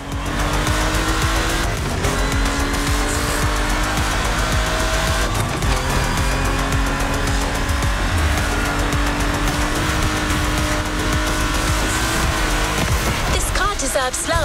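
A rally Porsche driven in the racing game The Crew Motorfest, its engine droning and revving loudly without pause while tires squeal and skid through corners, with the engine note rising and shifting as it accelerates.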